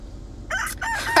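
A rooster crows once, close and loud, a short rising and falling cock-a-doodle-doo following a moment of near silence.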